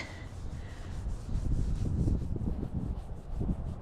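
A hand rubbing a horse's big neck during winter bodywork: soft, close, continuous scratchy rubbing strokes with a gentle rhythm, heard alone without talk.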